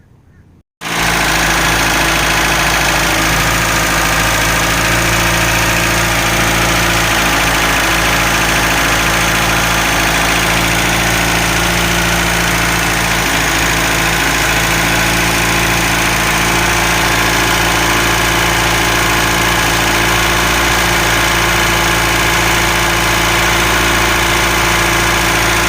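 A 1967 Mercedes 200D W110 diesel engine, just fitted with a heater core bypass for a coolant leak, cranks and catches almost at once, then idles loudly and steadily with a rough, clattering diesel knock close to the microphone.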